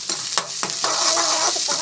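Onions sauté in hot oil in a home kitchen pan, a continuous sizzle broken by several sharp stirring scrapes of a spoon, close and fairly loud, with no talking.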